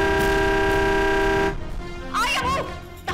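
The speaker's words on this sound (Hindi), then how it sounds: "ड्राइवर हॉर्न बजाना" A driver sounds a vehicle horn in one long, loud, steady blast, followed by quieter street ambience and a brief rising and falling sound.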